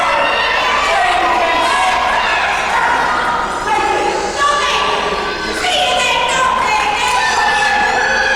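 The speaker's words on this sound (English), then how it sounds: "you can hear the crowd joining in that frustration" A British wrestling crowd at a live show jeers and shouts in frustration. The noisy arena roar carries steadily beneath a loud, continuous commentator voice.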